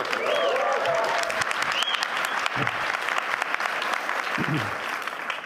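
Sustained applause from a large audience at the World Economic Forum in Davos, dense and steady at moderate loudness, with a few short voices surfacing over the clapping.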